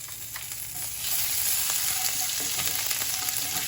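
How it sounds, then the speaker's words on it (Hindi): Grated ginger frying in a cumin and mustard seed tempering, a bright continuous sizzle that swells louder partway through, with faint crackles and stirring scrapes close by. "जब जीरा और सरसों स्प्लैटर हो जाए, उसमें ऐड करेंगे हम अदरक"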